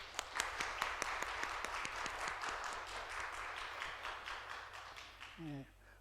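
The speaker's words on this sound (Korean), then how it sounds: "우리 축하한다고 박수를." Church congregation at a Sunday morning service claps in congratulation, a scattered round of applause with distinct individual claps that fades, followed by a brief voice at the end.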